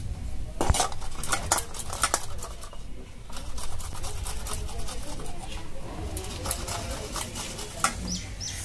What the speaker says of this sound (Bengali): রসুনটাও ঘষা হয়ে গেছে